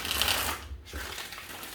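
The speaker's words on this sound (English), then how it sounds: "let's give this 5 shuffles for you" A deck of tarot cards riffled and shuffled by hand, a brisk papery rustle in two short bursts with a brief gap between them, close and fairly quiet.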